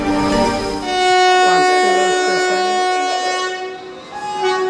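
A local passenger train on a West Bengal line near Kharagpur and Medinipur, its horn blaring as a loud, steady harmonic tone over the rumble of the railcars for several seconds, close by.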